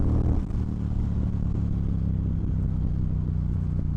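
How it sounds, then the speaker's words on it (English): A Triumph Speedmaster motorcycle pulls hard in third gear from about 4,000 rpm along a straightaway, its twin-cylinder engine drone loud and steady with heavy wind rumble throughout. "I'm going to do it from a third gear pull here at this straightaway here"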